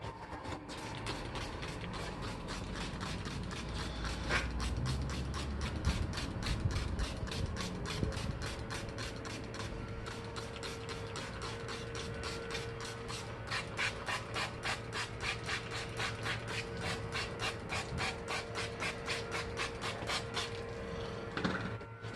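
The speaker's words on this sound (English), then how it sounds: "I'm going to hit it with my magic eraser and some Dawn." A magic eraser soaked with Dawn soap rubs back and forth on a car headlight, producing a long run of fast, rhythmic scrubbing strokes heard up close.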